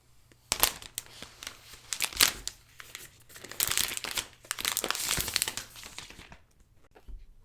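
Matte protective plastic film is peeled off a new sky blue 2022 iPad Air, giving close crinkling and crackling bursts that come and go over several seconds, with short quiet gaps between pulls.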